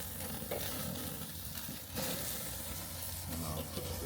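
Steaks flipped over direct fire on a Weber grill give a soft, steady sizzle and crackle with faint scraping at each turn.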